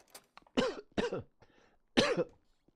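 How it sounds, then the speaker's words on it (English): A person coughs three times, harsh throaty bursts spaced about half a second and a second apart, close and fairly quiet, with a small throat-clearing sound between them. "That's why I'm coughing."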